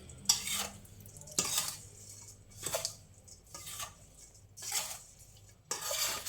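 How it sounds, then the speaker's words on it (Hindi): Green chili pickle being stirred with unheated raw oil in a bowl, several separate scraping, squelching strokes of a spoon with brief quiet gaps between them, close and fairly soft with no speech. "अब इसको हम मिक्स करेंगे, अच्छे से मिक्स कर लेंगे।"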